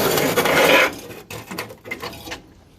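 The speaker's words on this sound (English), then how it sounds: "it just slides right off of those hinges" The trunk lid of a 1969 Mustang fastback slides off its hinges with a loud scraping rub for under a second, then a few shorter scrapes and clunks that fade out.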